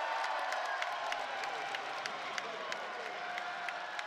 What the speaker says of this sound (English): a mock cheer from the Eastern Kentucky crowd